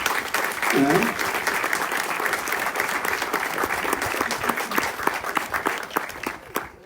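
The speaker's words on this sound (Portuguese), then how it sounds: "Acho que merece uma salva de palmas o homem" A congregation at a church Mass claps steadily for several seconds, a dense, sustained round of applause from many hands filling the space, with a voice briefly audible near the start.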